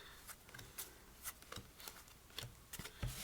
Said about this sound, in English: We can give these a shuffle.